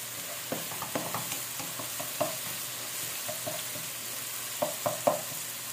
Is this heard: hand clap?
no